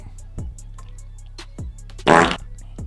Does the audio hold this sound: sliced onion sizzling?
no